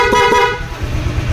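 A Honda Click 125i scooter fitted with a PIAA horn gives two short, loud toots close up, followed by a low rumble.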